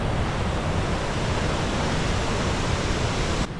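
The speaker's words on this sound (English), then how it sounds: "Have you ever seen a waterfall going upwards?" Steady, loud broadband roar of Victoria Falls, the huge waterfall throwing up mist, filling the whole clip without pause and dropping slightly at the very end.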